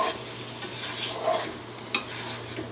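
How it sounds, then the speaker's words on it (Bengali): A spoon stirs vinegar through mango pickle in a container, giving soft scraping and rubbing sounds with a few light clinks against the side. Each stroke is close and fairly quiet over a steady low hum, and no one speaks. "ভালো করে ভিনেগারটা যেন মিক্সড হয়ে যায় ভালো করে নেড়ে দেবেন"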